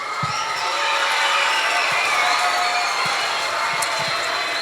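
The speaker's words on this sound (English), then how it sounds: "Let's hear us a round of applause." School assembly audience in a gym, applauding and cheering with a steady, dense wash of crowd noise and a few faint thumps throughout.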